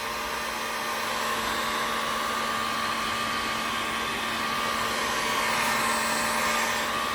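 Heat tool melting crayon on a canvas, a steady loud blowing roar like a hair dryer with a constant hum that runs unbroken throughout.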